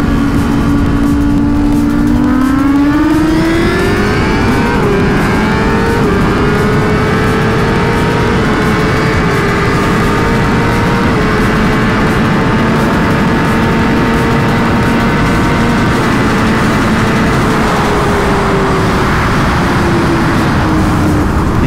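A sport motorcycle, such as a Suzuki GSX-R1000R, Kawasaki ZX-10R or Yamaha R1, races past loud and close. The engine note climbs steeply through the revs, holds high and strained, then eases off, with no talk over it.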